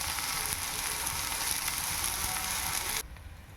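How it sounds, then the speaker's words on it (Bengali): Soybean chunks frying in oil in a pan for a soya bean curry give a loud, steady, dense sizzle that cuts off sharply near the end, leaving a quieter background. "সয়াবিনটাকে সুন্দর করে ভেজে নেব।"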